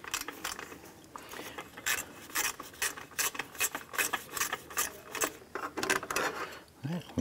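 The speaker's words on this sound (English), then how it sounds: "We're going to reach down with our gear wrench and get that out." A gear wrench ratchets out a 10 mm bolt holding the radiator expansion tank bracket on a 2004-2008 Acura TL, giving rapid, uneven bursts of close metallic clicking and a short pause partway through.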